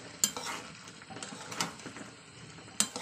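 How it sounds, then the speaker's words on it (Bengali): Chicken for tomtom chicken kasha sautés in a pan with a constant soft sizzle while a spoon stirs and scrapes, and a few sharp metal clinks punctuate the frying. "তো এইভাবে কষে নেবো 5 মিনিট ধরে"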